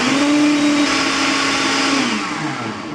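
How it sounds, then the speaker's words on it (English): A Ninja blender whirs loudly and steadily, mixing protein pancake batter, its motor pitch holding then dropping as it spins down near the end. "Put it in your blender or food processor and give it a mix."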